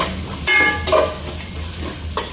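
Chicken masala stirred in a frying pan while it sizzles, a steady close fry with a few scraping strokes of the spoon against the pan, no voices.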